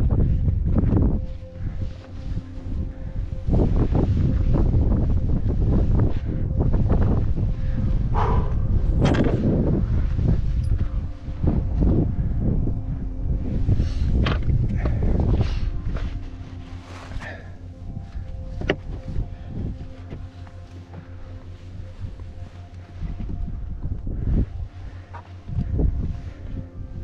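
Wind buffets the microphone high on the Hochgall mountain, a loud gusting roar that swells and fades in waves, easing toward the end.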